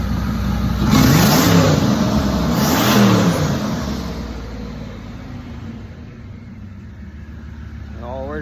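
A Ram truck's 5.9 engine fitted with a single GT3582 turbo, revving loudly twice in quick succession while stationary and out of gear, then settling back to a steady idle.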